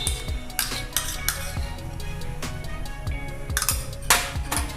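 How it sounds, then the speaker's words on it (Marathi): A metal spoon scrapes and clinks against a pan while spooning in three spoonfuls of ghee, with repeated sharp clatters and taps close by. "पॅन ठेवते आणि त्याच्यात 3 चमचे साजूक तूप घालत आहे"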